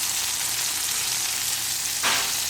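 Tomatoes blistering in a pan as garlic goes in, a steady loud sizzle throughout with a sudden brief surge of frying partway through, no voices.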